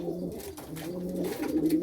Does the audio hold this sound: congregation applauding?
no